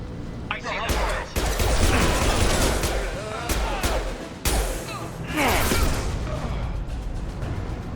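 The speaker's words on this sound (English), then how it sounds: "Blue Suns and Vorcha shooting anything that moves." Gunfire in the Mass Effect 2 video game as Blue Suns mercenaries and Vorcha fight: dense, sustained volleys of shots and bursts with whooshes, loud and continuous, with brief dips and a voice mixed in.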